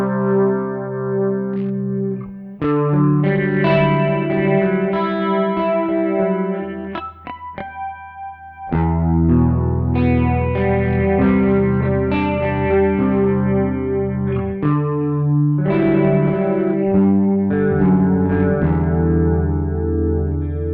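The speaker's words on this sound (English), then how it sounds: "The roto function here, right? So it's that kind of roto vibe sound." Guitar played through a Tech 21 Richie Kotzen Fly Rig with its rotary effect, sustained swirling chords and notes with a brief pause midway, loud and alone without talking.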